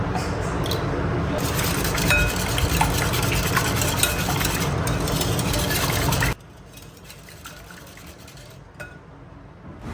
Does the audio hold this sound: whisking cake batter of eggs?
yes